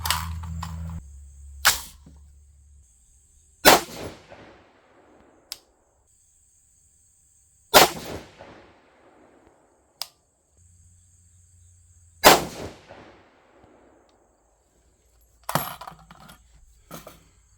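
AR-15 rifle chambered in 6.5 Grendel fitted with an EC tuner fires about six sharp, separate shots spaced a few seconds apart, each loud crack trailing into a short outdoor decay, with quieter clicks in between.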